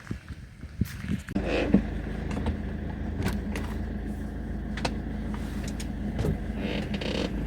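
A road vehicle pulls away and keeps driving, its engine rumble rising after a brief rattle and then holding steady, with creaks and knocks from the cabin over the low drone.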